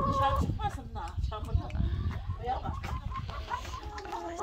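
Hens clucking close by in short bursts, with people talking over them.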